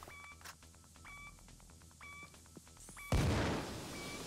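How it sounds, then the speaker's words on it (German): A loud, booming explosion of mines in the game PayDay 2 bursts in suddenly amid repeated electronic beeps, its rumble lingering briefly afterward. "Das sind meine Minen, die explodieren übrigens."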